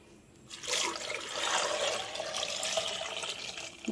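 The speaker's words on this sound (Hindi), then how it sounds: "मैंने पानी डाल दिया है" Water pours and splashes into a pressure cooker holding sweet potatoes, a rushing, bubbling stream that starts suddenly and runs steadily at moderate loudness without speech.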